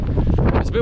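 Wind buffets a microphone outdoors on a coastal trail near a lighthouse, a loud rumbling gust over a spoken voice in one short burst.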